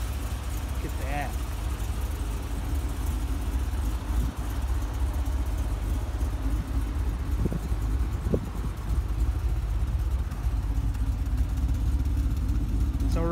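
A G8's engine idles with its catback exhaust set to quiet mode, giving a steady, muted low rumble throughout, with faint voices in the background.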